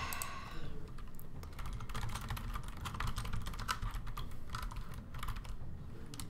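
Rapid, steady typing on a computer keyboard during a game development session, with dense clicking keystrokes running continuously and fairly close, with no talking over them.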